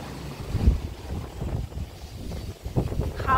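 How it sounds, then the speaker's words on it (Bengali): Strong wind gusts through a garden, buffeting the microphone in low, continuous rumbling blasts that swell and ease over a few seconds. "হাওয়া দেখেছো? পাগল করা হাওয়া যাচ্ছে।"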